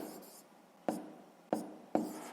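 A pen or chalk writes a fraction in a maths exercise, a soft scribble followed by three sharp, close strokes spaced about half a second apart, quiet and alone.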